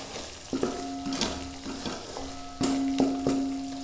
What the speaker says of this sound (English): we need to quickly mix this before the curd splits in the oil